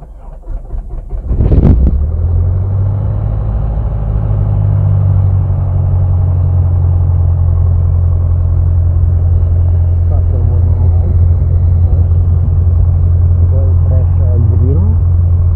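Light aircraft piston engine cranked from cold with the throttle barely open: a brief whirring crank catches into a steady, loud low drone that runs on evenly, with faint voices over it.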